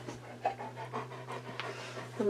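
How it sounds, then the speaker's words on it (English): Nervous dog panting in short quick breaths close by indoors, a steady soft rhythm over a constant low electrical hum, with a few light clicks and rustles. "I have a nervous dog in here, so she's panting a little bit"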